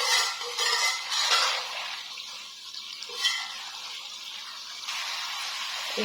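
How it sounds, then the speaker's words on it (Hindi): Potatoes and bell peppers fry in a pan with a steady, moderately loud hiss and sizzle, with a few brief stirring scrapes and bursts throughout and no talk. "1 मिनट के लिए इसको जो है ना हम इसको भून लेंगे अच्छी तरह"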